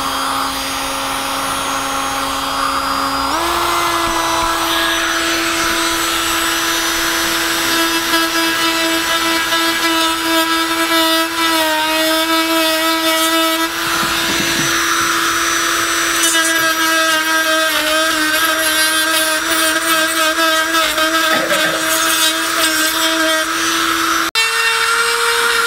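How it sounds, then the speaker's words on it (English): A power drill bores a hole through wood, scorching it as it goes, its steady high-pitched whine holding loud and close for the whole stretch, dipping and shifting pitch as the bit bites and the load changes. "Drill a hole through it"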